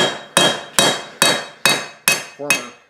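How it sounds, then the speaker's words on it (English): A ball peen hammer taps down the edges of a small handmade metal garden tool in six sharp, evenly spaced ringing strikes, close and loud with no talk. "I'll just take my ball peen and tag down the edges"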